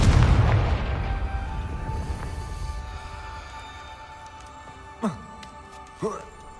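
Confringo spell explosion in the Hogwarts Legacy video game: a loud, deep boom at the start that rumbles and fades over a few seconds, then two short swooping effects follow later.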